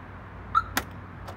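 The remote-controlled trunk of a Fiat 131 opens: a short electronic beep, then a sharp click, and a fainter click a moment later, all quiet and close.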